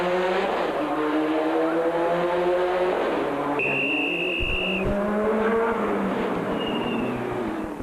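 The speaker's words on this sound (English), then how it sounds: "Duplessis misjudges the hairpin, but uses the Subaru's all-wheel drive to recover" A Subaru rally car with all-wheel drive slides through a hairpin on a rally stage, its engine droning and rising in pitch as tires squeal in a long, loud skid before it recovers and pulls away.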